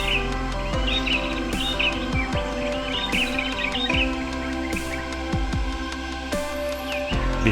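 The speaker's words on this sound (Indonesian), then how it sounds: "Disambut dengan kicauan burung-burung yang sangat merdu sekali." Birds chirping at sunrise in Wongaya Gede, a village in Tabanan, Bali: bright scattered calls and tweets over a steady low hum with faint repeated thumps, moderately distant and continuous throughout.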